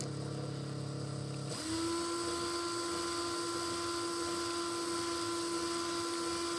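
A small power drill with a 1.5 mm steel bit whirs steadily, then its whine shifts into a higher, strained tone as the bit bites into copper pipe, sustained and close.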